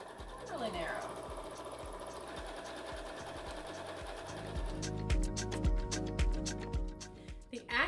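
A Janome Horizon Memory Craft 9480 QCP computerized sewing machine runs a free-motion zigzag stitch, a fast rhythmic mechanical chatter that speeds up partway through, with a person talking over it.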